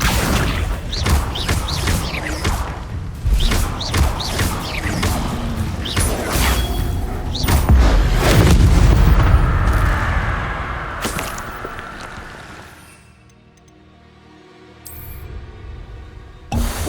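Spell-casting combat in Hogwarts Legacy, with a rapid barrage of magical whooshes, blasts, crashes and thuds in dense succession, loud and busy, easing off into a quieter stretch near the end before a final sharp hit.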